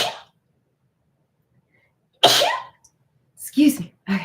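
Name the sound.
sneeze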